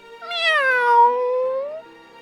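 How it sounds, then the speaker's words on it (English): A single drawn-out cat meow, clear and close, rising then gently falling and fading away. "Meow, meow, meow, meow."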